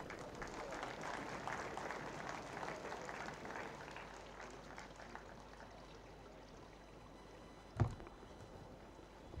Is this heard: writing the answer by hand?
no